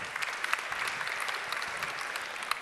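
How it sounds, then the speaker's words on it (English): Audience applause at a startup conference in Lithuania, steady dense clapping from a crowd that holds at an even level throughout with no speech over it. "Give them an applause."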